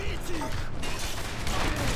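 Weapon reloading in Call of Duty MW2 comes through as clattering mechanical clicks and ratcheting buried in dense, continuous gunfire and battlefield noise.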